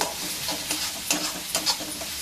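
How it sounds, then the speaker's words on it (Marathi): Chana dal jhunka sautéed in oil and stirred in a pan, with a steady sizzle broken by rhythmic scraping strokes of the spoon across the pan, close and moderately loud, without speech. "मस्तपैकी असा परतून घ्यायचा म्हणजे मसाला कच्चा राहत नाही."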